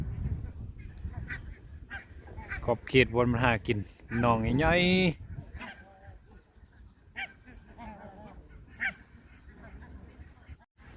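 Waterfowl near the Royal Palace in Sweden, honking loudly in a couple of drawn-out, wavering calls, with someone talking before and after and softer calls trailing off.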